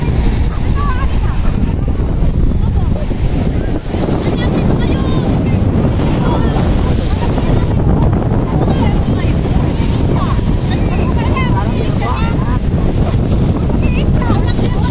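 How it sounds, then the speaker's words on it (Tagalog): Wind and waves at a seaside beach, with loud, constant wind buffeting the microphone over a surf wash, and people's voices talking faintly in the mix. "dito sa tabing playa, tabing dagat"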